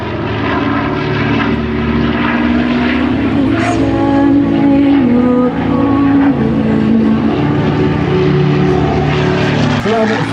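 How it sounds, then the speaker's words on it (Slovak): A Spitfire propeller plane at the Slavnica airfield air show drones loudly and continuously overhead, its engine roar steady throughout, with a voice speaking and music underneath. "Lietadlo Spitfire v premiére tuto na Slavnickom letisku."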